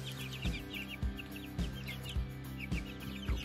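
Hens cluck and chicks peep continuously nearby, with soft thumps recurring roughly every half second underneath.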